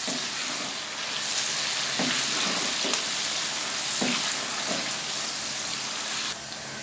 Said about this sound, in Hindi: अब मैं इसको ऐसे ही फ्राई करूँगा ताकि इसका कलर थोड़ा सा ब्राउन शेड में आ जाए।